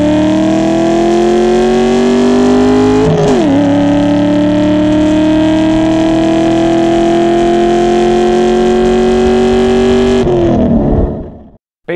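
A Ford Mustang V8 fitted with very aggressive camshafts revs loudly and steadily, its droning tone climbing gradually, dipping once briefly, then rising again before cutting off abruptly near the end.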